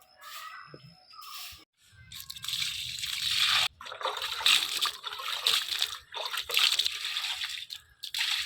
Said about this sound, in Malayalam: അതിനൊക്കെ വെള്ളമൊക്കെ ഒഴിച്ചു കൊടുത്തു